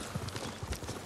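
Horse hooves clip-clop in Ghost of Tsushima, a few soft uneven hoof falls under a dense, steady game soundscape, faint and fairly distant.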